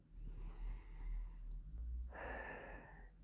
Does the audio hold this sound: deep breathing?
yes